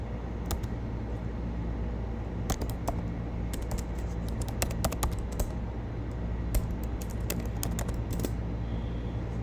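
Rapid, irregular clicking of computer keyboard keys as Python code is typed, close and fairly faint over a steady low background hiss.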